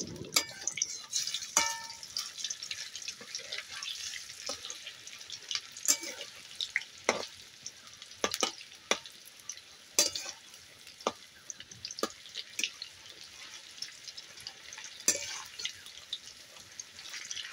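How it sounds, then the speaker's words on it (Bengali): Small prawn chops sputter in oil, a fairly quiet bubbling fry punctuated by sharp pops and spits at irregular intervals, heard close with no talking. "সুন্দর করে এপিট এপিট করে লাল করে ভেজে নেব।"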